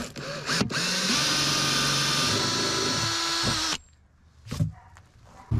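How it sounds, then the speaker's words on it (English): A power drill whines steadily for several seconds while boring a 1/2 inch hole through a water container's lid, then spins down, followed by a couple of handling knocks. "drill a 1/2 inch hole right towards the center of the top of your water vessel"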